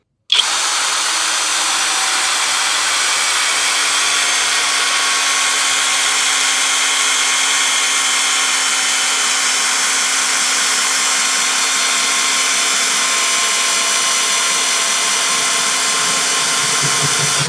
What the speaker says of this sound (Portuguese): Então agora aqui é parafusamento nessa madeira de pinos com parafuso de 250 milímetros.